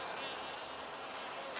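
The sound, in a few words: honey bee buzzing at a feeder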